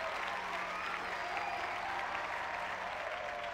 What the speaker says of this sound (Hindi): पता नहीं किस बात के लिए तालियां बजा रही है।